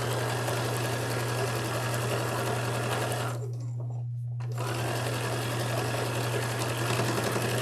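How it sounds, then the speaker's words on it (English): A sewing machine stitches across old jeans pieced into a denim quilt, with a steady, close mechanical whir and hum that stops briefly mid-way before starting again at the same pace. "I'm going to sew across those."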